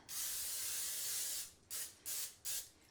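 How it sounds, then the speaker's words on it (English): Cooking spray hisses onto a pan in one long burst, followed by three short quick sprays, close and fairly loud. "I always like to spray the pan just for easy cleanup"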